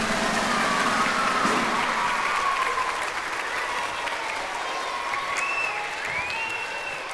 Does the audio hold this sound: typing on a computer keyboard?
no